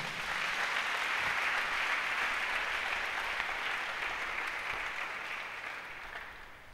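A church congregation applauds during a sermon, a dense, sustained wash of many hands clapping together that holds steady and then gradually fades toward the end, with no talking over it.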